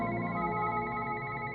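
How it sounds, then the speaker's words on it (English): A telephone rings steadily inside a video game, a soft synthetic ringing tone that repeats without pause. "Do you hear the throbbing ringing?"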